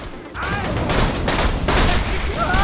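Automated turret in the Borderlands video game firing in sustained rapid bursts, loud and close, with a short pause partway through and faint voices underneath.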